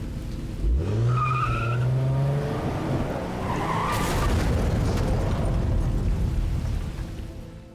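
In Silent Hill 2, a car door opens with a brief mechanical clunk, then the car engine revs up and the vehicle accelerates away with rising roar and tire noise.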